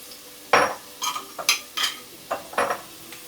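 Canned tomatoes emptied into a pan in a home kitchen: a close series of about seven short clattering scrapes and wet plops of metal against the pan, spaced unevenly, with no talking.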